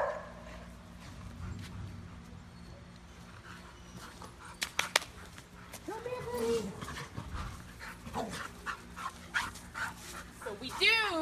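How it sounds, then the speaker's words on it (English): Several dogs at a dog shelter bark, yip and pant while playing, with excited whimpers and scuffling throughout, a person talking over the noise. "We love to keep the dogs socialized together"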